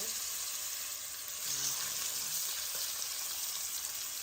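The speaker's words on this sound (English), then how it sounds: "Then we're gonna sear this on both sides." Chicken pieces sear in a hot pan, a steady broadband sizzle running loud and continuous throughout with faint clinks near the middle.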